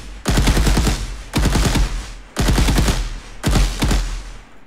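Gunfire from a third-person shooter game built in Unreal Engine: four separate rapid automatic bursts, each a loud, close rattle of several shots, evenly spaced about a second apart.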